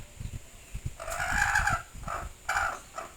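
Chickens cluck in short repeated bursts on a farm, with a few louder calls close by over a quiet background.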